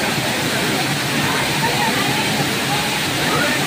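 Palasdari waterfall in a natural setting, a constant broadband roar of falling and flowing water, steady and fairly loud, with no pauses and no clear voices.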